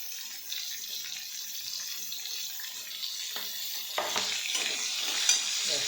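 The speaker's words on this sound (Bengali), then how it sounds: "এই যে পেঁয়াজ রসুন বাটা দিচ্ছি।" Onion-garlic paste frying with potatoes and pointed gourd in a pan, a steady bright sizzle throughout with scraping stirs growing busier toward the end, close and alone without talk.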